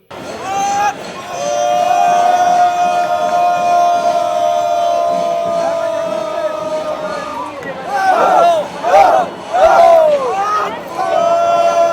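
Thousands of festival-goers at Thrissur Pooram roar and cheer as the elephant Ernakulam Sivakumar pushes open the south gopuram gate. A sustained crowd din with a steady tonal drone gives way to surging, rising shouts near the end.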